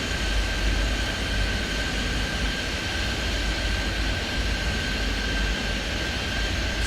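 A jet airliner in Airport Madness 3D powers up for takeoff, its steady broadband engine roar and rumble holding at an even level from start to end, with a faint whine running through it.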